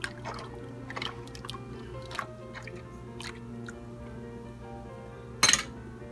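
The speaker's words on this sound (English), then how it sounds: "Now I'm taking the ladle and I'm stirring it in very well to make sure that the culture gets in all" A ladle stirs yogurt culture into milk for homemade leben in a home kitchen, giving soft scattered clinks against the pot over a low steady hum, with one sharper clatter near the end.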